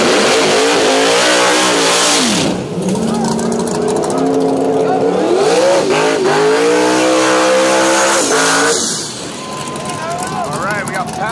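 Racing trucks at a drag race roar down the lane, engines climbing through gears in rising, shifting pitch sweeps, loud and close with a commentator talking over them.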